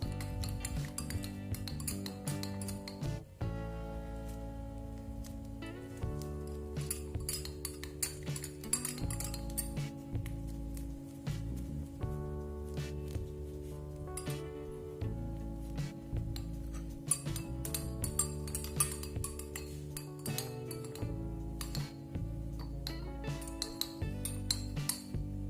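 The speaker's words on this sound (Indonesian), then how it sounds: "Kita aduk." A metal spoon stirs a honey mixture in a glass for a homemade cough remedy, clinking steadily and rhythmically against the sides, up close and alone with no talking.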